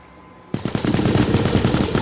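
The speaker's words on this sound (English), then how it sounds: "Whoa, what the heck, we got gunfire or something." Sudden loud bursts of rapid automatic gunfire in the Minecraft video game on PS4 break a near-silence and keep rattling steadily for about a second and a half.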